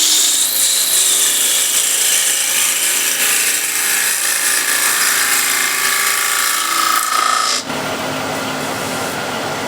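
A bowl gouge cuts a small wooden bowl spinning on a lathe, making a steady, loud, close scraping hiss that runs continuously, then the cut stops abruptly and only the lathe's quieter hum remains.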